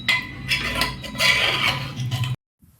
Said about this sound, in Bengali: আবার একবার ভালো করে নাড়িয়ে নেব।